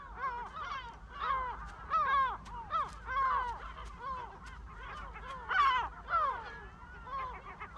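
A gull calling at its nest on the island of Cabrera, a series of harsh, repeated cackling calls in uneven bursts, fairly close and clear over quiet surroundings with no talking.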